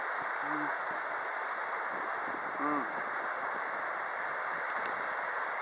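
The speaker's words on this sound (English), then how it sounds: "You can hear the river." Steady broadband rush of a river swollen by heavy rain, flowing beneath an old bridge in the woods, with a couple of faint brief voice-like sounds in the background.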